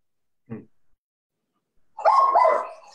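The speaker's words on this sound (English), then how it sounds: "Sorry, that's my dog." A pet dog barks indoors, one short sharp bark followed after a pause by a louder burst of a couple of overlapping barks and yips, close to the microphone.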